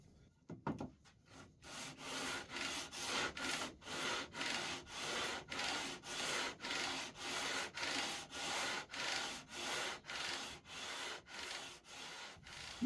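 A sanding block is pushed back and forth along a guitar fretboard to shape its radius, an even run of rhythmic scraping strokes, close and fairly quiet, with no voices.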